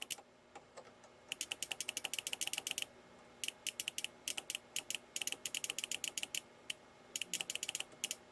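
Relay inside an Onkyo TX-810 receiver amplifier with an intermittent output fault, clicking in quick irregular bursts as its power supply is switched off and on, close and fairly quiet, with no voices.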